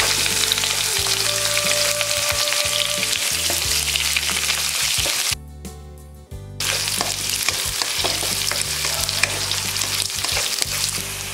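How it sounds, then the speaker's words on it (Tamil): Onions and chana dal sizzle loudly in hot oil for sago upma, a steady crackling fry with stirring scrapes throughout, briefly dropping away for about a second near the middle before resuming. "இப்போ வெங்காயத்தையும் சேர்த்துக்கலாம்."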